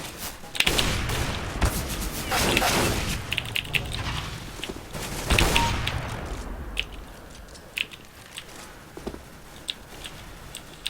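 Unsilenced gunfire in a deathmatch video game comes in dense rapid bursts early on, then thins to scattered single shots, thuds and footsteps, loud and close.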